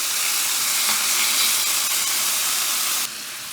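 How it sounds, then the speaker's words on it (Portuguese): Meat browning in a pan, a loud, dense, continuous sizzle held close and steady throughout, dropping slightly in level near the end. "adicionar toda a nossa carne. E agora deixar até dourar"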